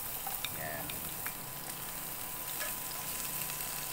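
Onion frying in a pan in a home kitchen, a steady, fairly quiet sizzle with occasional faint pops and stirring clinks.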